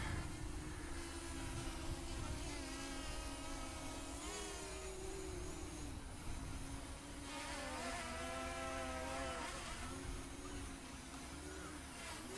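A JJRC X15 Dragonfly drone hovering outdoors on a breezy day, its steady insect-like whine holding close and constant, with the pitch rising and dipping slightly as the motors adjust.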